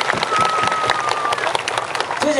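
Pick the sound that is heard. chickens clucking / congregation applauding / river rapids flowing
congregation applauding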